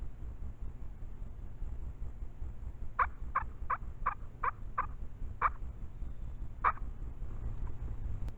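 Turkey gobbler call imitating a tom's gobble during spring turkey hunting in Wisconsin: a clear rattling burst of about six rapid notes, then two more spaced calls, fairly close over steady background hiss.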